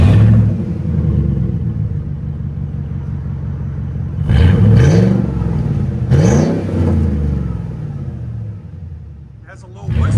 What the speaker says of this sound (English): now we're gonna do the Dynomax race bullet that you guys come to love through our channel